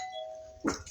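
A doorbell chimes once, a bright two-tone ring cutting in over a quiet room with a faint steady hum underneath.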